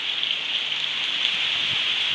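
Heavy rain falls in Southern Leyte in a steady, dense hiss, with a few close drips and patters striking a surface, no voices.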